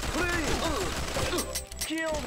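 Video game gunfire in 1Shot - Not a Hero: a quick burst of several sharp, close shots with chirping ricochet-like tones, cutting off before a final short report.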